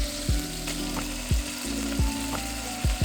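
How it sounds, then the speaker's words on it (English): Shaoxing wine hits a hot pan to deglaze it, producing a strong, close sizzle broken by several sharp scraping strokes against the pan bottom at a loose, uneven rhythm. "adding a bit of Shaoxing Wine to deglaze the bottom of the pan"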